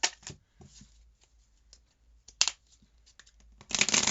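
Crisp riffling bursts of tarot cards being shuffled, several quick flutters with pauses between, close up, ending in a longer loud riffle.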